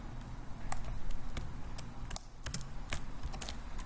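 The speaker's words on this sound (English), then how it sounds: "now I'm gonna type" Close, rapid clicking of keys on a computer keyboard, uneven in rhythm, over a steady background hiss.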